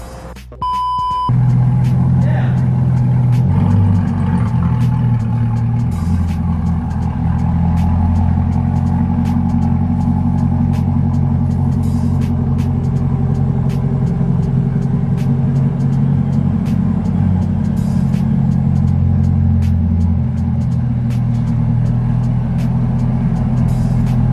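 A 2020 C8 Corvette pulls away from a dealership, its engine a loud, steady low drone held close throughout after a brief start, with faint beeps at the very beginning.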